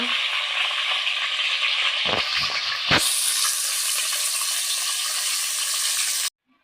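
Fish fries in a pan with a loud, steady sizzle and hiss, broken by a couple of brief scraping stirs, before cutting off abruptly near the end.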